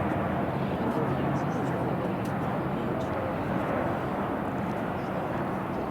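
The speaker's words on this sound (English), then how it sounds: "Alaska Airlines 737 coming in" An Alaska Airlines Boeing 737 coming in to land on a runway near the Juneau Channel produces a steady, broad roar, heard from a distance with constant wind-like noise.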